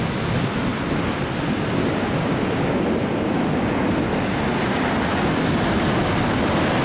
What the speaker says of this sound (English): And I just love the waves.